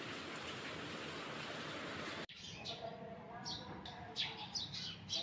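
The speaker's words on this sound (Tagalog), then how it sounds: "Sobrang lakas ng ulan," Heavy rain and strong wind in a stormy rural setting with damaged crops, a dense steady broadband roar that cuts off sharply midway, followed by softer rain with scattered bird chirps.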